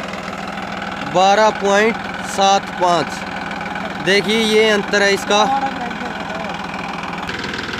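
A Massey Ferguson 9500 Smart tractor engine runs steadily in first gear, a loud low diesel drone throughout while someone talks over it in bursts.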